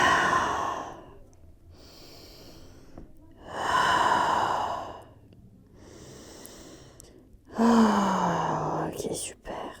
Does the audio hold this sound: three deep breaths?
yes